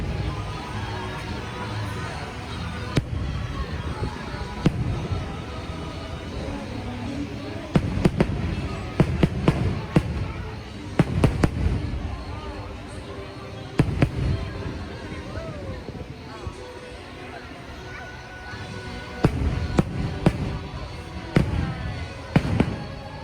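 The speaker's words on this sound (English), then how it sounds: "that was the fireworks show" Fireworks boom and crackle at Magic Kingdom, Walt Disney World, during the 50th anniversary show, with scattered loud bursts over a constant rumble of crowd noise, while people talk nearby.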